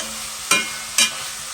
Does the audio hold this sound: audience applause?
no